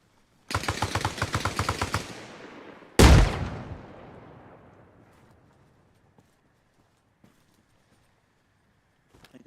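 A rapid burst of gunfire in the video game Arma Reforger is followed by a heavy grenade explosion whose rumble slowly fades, then a few faint distant pops.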